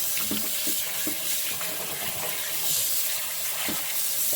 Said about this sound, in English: After you're done rinsing the meat off real good, you're gonna season it.